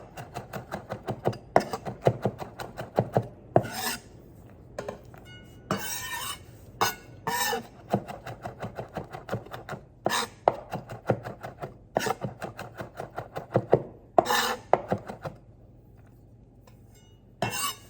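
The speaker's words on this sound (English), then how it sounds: "We're just going to mince these up." A knife mincing about four garlic cloves on a cutting board: quick clusters of sharp chopping taps with short pauses, close and distinct, with a few light clinks between bursts.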